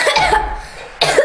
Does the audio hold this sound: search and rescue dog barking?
no